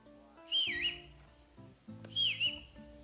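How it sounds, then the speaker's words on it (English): Whistling inside a video game, two short high whistled phrases sliding down in pitch, faint over soft background music. "Stop that whistling"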